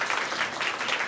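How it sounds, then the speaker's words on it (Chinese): An audience applauds performers after a traditional music show, a dense, steady patter of many hands clapping at an even level throughout. "再给他掌声"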